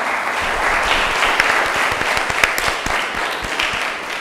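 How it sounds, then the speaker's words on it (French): An audience at a televised children's talent show applauds steadily, a dense, loud wash of clapping with scattered sharper claps throughout and no voices over it. "Veuillez applaudir Monsieur Sankaré."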